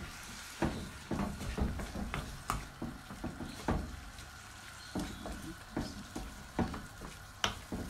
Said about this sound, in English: Give it all a good mix.